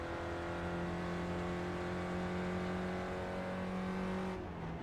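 A Mazda MX-5 race car engine drones at steady high revs in the iRacing video game on the Okayama track, loud and continuous before easing off at the end.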